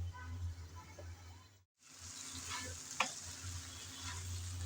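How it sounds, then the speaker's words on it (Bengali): Taro stolons being stirred and sautéed in a pan, a quiet sizzle with occasional scraping stirs and a low hum, briefly cutting out early on. "কিছুক্ষণ পর পর প্রায় 3-4 বারের মতন এসে এসে আমি ভালোভাবে কষিয়ে নিলাম এই কচুরলতি।"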